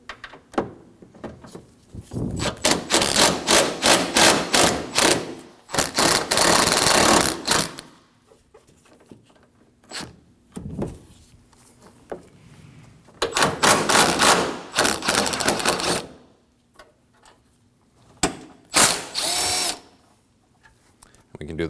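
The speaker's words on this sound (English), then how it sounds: "I'll be using a swivel socket." Ratchet with a 10mm swivel socket working the core support bolts on a 2016-2022 Honda Pilot during radiator replacement, close bursts of rapid clicking separated by quiet pauses.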